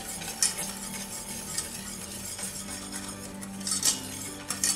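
Milk and sugar, with butter, are stirred in a pan over the flame until the sugar melts. A spoon scrapes and occasionally clinks against the pan over a soft, low sizzle, with quiet background music.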